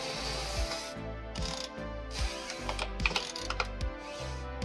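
A wrench working a 24mm fitting on a Citroën Berlingo 1.6 HDi diesel engine, giving quiet, close metallic clicks and soft ratcheting knocks in an irregular rhythm.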